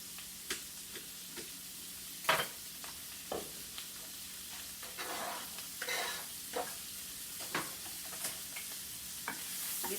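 Brussels sprouts and onion fry in a pan with a faint, continuous sizzle. Irregular clicks and scrapes from stirring recur close by throughout.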